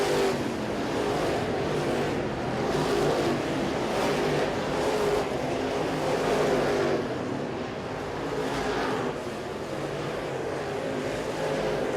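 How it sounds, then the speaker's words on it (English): Race cars roar around a short track during a feature race, a steady, dense engine drone with gentle swells as cars pass, and no voices heard. "So Jimmy Elliott's car has come to life, the J39"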